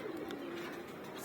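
Foster pigeons kept at home give a soft, low cooing, faint and steady.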